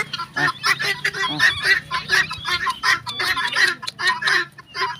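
Domestic geese honk in loud, rapid bursts close by on a Bangladeshi poultry farm, a repeated clamour of overlapping calls with no gaps.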